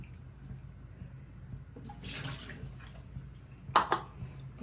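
Cut potatoes are rubbed and washed in very cold water in a bowl: a soft swishing burst followed by a couple of sharper splashes, fairly quiet with no talking.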